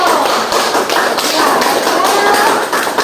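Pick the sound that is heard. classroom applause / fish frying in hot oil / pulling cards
classroom applause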